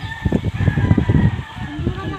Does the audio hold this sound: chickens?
yes